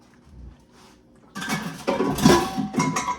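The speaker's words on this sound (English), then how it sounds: "We're just gonna mix all this pasta up in here." Cooked pasta being stirred and mixed in a pot, with soft scraping and clattering of a utensil against the pot building up after a quiet start and continuing in several close, moderately loud bursts.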